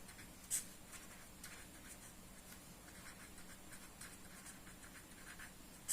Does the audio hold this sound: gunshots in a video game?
no